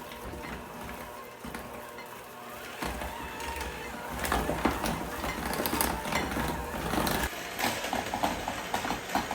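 An electric mixer creams butter with vanilla, rosemary and salt for apricot rosemary bars, a whirring motor hum with rattling bowl contact that grows louder and busier midway, no talk.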